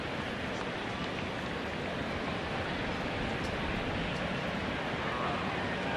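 Steady, hissing rain and gusting wind at a baseball game wash over everything in a constant broadband roar, with no distinct events standing out.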